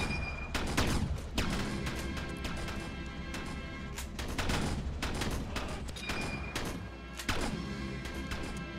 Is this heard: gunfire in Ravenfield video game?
yes